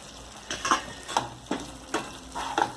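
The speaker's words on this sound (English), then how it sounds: "After giving a good stir, I am putting in the sliced eggs to the masala." Sliced eggs stirred into a masala gravy for egg curry, with soft rhythmic spoon scrapes against the pan about every half second over a faint sizzle.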